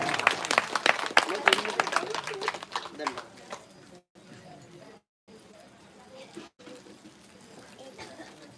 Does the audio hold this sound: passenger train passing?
no